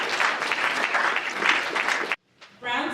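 An audience applauds the competitors at a college elevator pitch competition with a full, steady round of clapping. It cuts off abruptly, and after a short pause a voice begins speaking.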